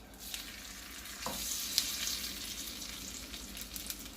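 A quesadilla with spinach cooks in a pan over low heat, giving a quiet, continuous sizzle with faint crackles close by and no talking.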